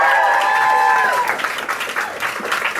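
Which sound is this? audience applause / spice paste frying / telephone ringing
audience applause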